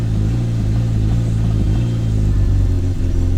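A Chevrolet Nova engine running from idle on cold weather, a loud, close, steady mechanical drone with a deep rumbling pulse and slight rises as a little gas is fed, with no talking.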